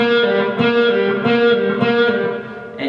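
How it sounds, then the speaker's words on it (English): A rock guitar sounds a string of pull-off notes, each plucked note snapping down to a lower pitch in an even, repeated rhythm, clean and fairly close with no voice over it. "the sound of a pull-off is like this"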